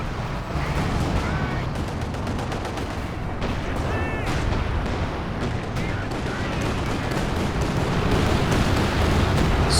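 Strafing-run gunfire in the WWII strategy game Company of Heroes 2, a 2v2 match: a dense, loud barrage of rapid shots and rumbling impacts that runs throughout, with a caster's voice faintly mixed underneath.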